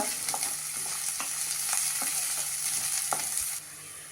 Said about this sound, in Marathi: आता त्यावर गाजर घालते परतून घेऊया